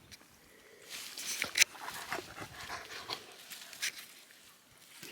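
A dog, likely Lily or Rocky, pants and moves about nearby on a hot day, with quick breathy bursts, paw patter and a small whimper, alone without talk.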